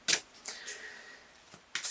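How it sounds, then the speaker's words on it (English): Tarot cards being shuffled by hand, a few short papery riffles and slaps with quiet gaps between them, close and fairly soft with no talking. "I'm just looking at these cards over here as I shuffle"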